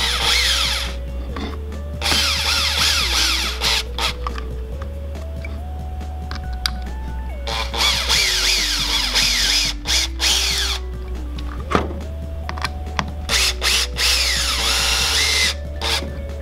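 Power drill driving screws into a wooden gearbox mount on a DIY RC car build, a series of close whirring bursts with rising and falling motor pitch and brief pauses between screws.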